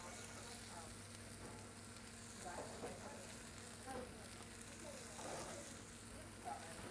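Shrimp fry in oil in a pan over medium heat, giving a steady, faint hiss and sizzle with slight crackling swells, heard alone without talk.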